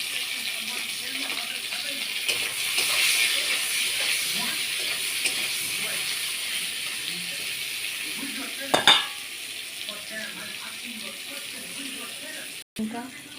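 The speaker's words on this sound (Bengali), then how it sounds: "বেগুনটা আমার ভাজা হয়ে গেছে" Eggplant frying in oil in a pan gives a steady, close sizzle with occasional stirring scrapes, and a voice talks over it.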